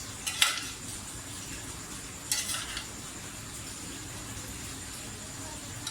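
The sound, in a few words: dishing out chicken degi biryani from the pot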